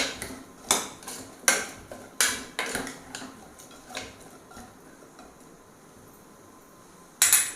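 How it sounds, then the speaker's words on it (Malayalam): A spoon knocks and scrapes against a pot while stirring chilli powder, salt and turmeric into Kerala pulinkari, giving a series of sharp metallic clinks at an uneven rhythm that thin out, then one last clink after a pause. "നല്ലപോലെ ഒന്ന് ഇളക്കി കൊടുക്കാം."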